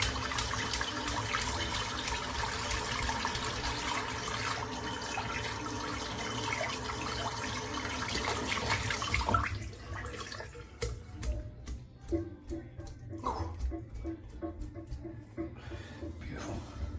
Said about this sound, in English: Got to make sure you get all that soap out your brush.